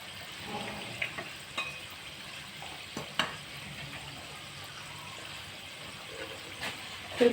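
A chicken keema samosa fries in hot oil over low heat, a soft, steady sizzle with occasional light clinks and stirring taps close by, and no talking.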